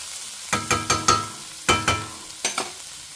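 Ground ginger, green chilli and coconut paste is stirred into a simmering cabbage curry in a pan. A spoon scrapes in about eight short, close strokes grouped in uneven bursts over a faint sizzle, with no talking.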